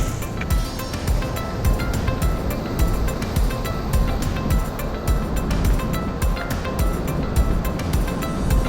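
Water rushes over stone steps on the Half Dome trail in Yosemite, a dense, steady wash of splashing that fills the clip without pause and with no voices.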